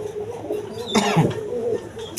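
Pigeons kept in pairs with eggs and chicks at a bird seller's, giving soft, low cooing calls close by over a faint hum of background noise.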